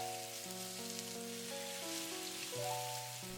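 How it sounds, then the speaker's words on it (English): Chicken thighs sizzle in very hot oil in a pan over medium-high heat, a steady crackling hiss that stays faint beneath louder background music. "As soon as the oil gets very hot, toss in the chicken."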